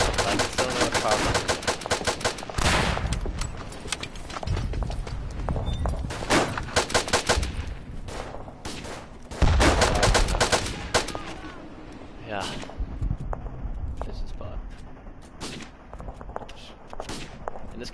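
Rapid, loud pistol gunfire in the World War I shooter game Verdun, with sharp repeated shots in uneven bursts over a busy battlefield of distant firing and footsteps.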